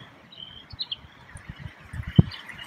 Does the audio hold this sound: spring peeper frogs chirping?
yes